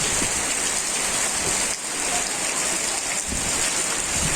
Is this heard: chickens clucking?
no